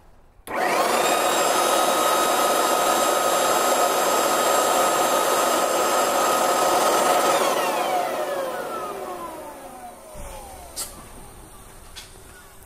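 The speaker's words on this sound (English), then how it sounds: "We're just going to show you the wind speed coming from the leaf blower before it enters the duct." A leaf blower, aimed for an air-speed test ahead of a carbon air intake duct on a BMW M3 E9X, roars loudly at full power for several seconds, then winds down with a falling whine and stops.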